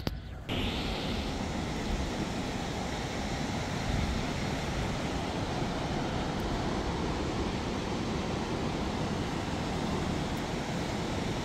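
Steady, broad roar of ocean surf and wind at a wide seashore where people go surfing, a constant dense rush without distinct breaks, heard from a moderate distance with no talking.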